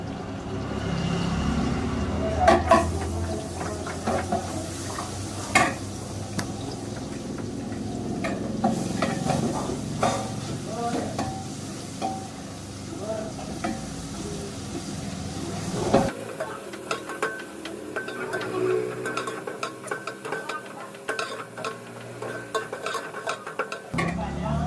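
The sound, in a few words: garlic ginger paste frying and being stirred in pan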